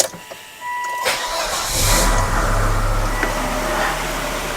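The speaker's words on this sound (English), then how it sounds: "Fire it up, even though I don't think it's going to..." A 2004 Volvo S80 that had badly overheated, fresh from a radiator replacement, cranks briefly and catches, then settles into a steady, close idle with a broad mechanical drone and some hiss.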